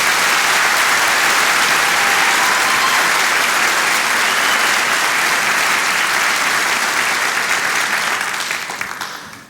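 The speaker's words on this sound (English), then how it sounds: "please, a round of applause" Loud, sustained audience applause for an opera singer at a live Assyrian classical and opera concert, a thick wash of many hands clapping that holds steady and then fades out at the end.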